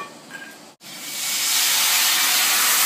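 Cognac poured into a hot pan with shallots erupts in a loud, steady steamy hiss that swells and holds after a brief silence, a close, broadband sizzle with no talking.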